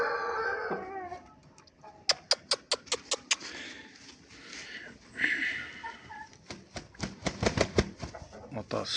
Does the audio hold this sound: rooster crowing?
yes